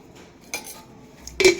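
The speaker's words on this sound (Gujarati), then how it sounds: "પછી આપણે મસાલાને મિક્સ કરી લઈએ" A metal spoon mixes spices in a pan, with a couple of sharp clinks and scrapes against the pan, the last one loudest, with no talking.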